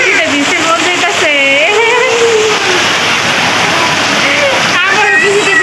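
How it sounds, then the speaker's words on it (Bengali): Heavy rain pours down in a continuous, dense wash of sound. Voices talk over it throughout. "অনেক বৃষ্টি হইতেছে, আবারও বৃষ্টিতে ভিজতে মন যাইতেছে।"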